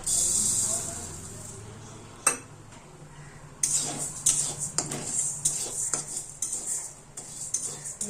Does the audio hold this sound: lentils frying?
yes